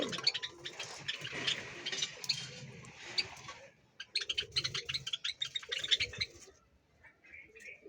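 Small pet birds in a home breeding colony chirp and twitter in dense bursts close by, with softer low cooing beneath, a pause near the middle, then another busy flurry of calls before trailing off.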